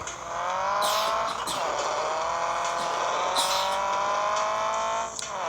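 Car drifting in a racing video game, with a continuous high-revving engine roar and repeated tire squeals sweeping up and down across a few seconds, loud and up front.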